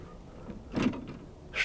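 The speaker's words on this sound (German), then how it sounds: "Und zu geht die Tür." Camper van door sliding shut, a short soft rumble of movement ending in a muffled thump, followed by a brief click as it latches, heard close and fairly quiet.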